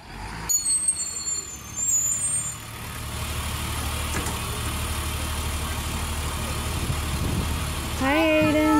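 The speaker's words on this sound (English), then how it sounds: "I hear the bus. I hear it. It's coming." A bus approaches and pulls up with a low, steady diesel rumble growing nearer, chirping sounds early on, and a hiss with squealing brake tones at the end as it stops.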